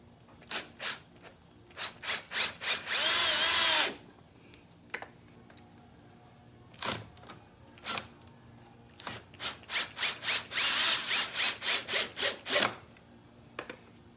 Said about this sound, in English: What I'm doing here is taking the screws back out and putting some sealant on them and then putting them back in.